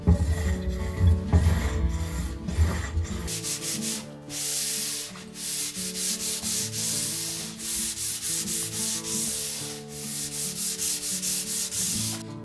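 Japanese ash (tamo) bead molding being shaped into a half-round for a tokonoma alcove, heard as a steady run of rhythmic rasping and sanding strokes, close and repetitive, with no talk.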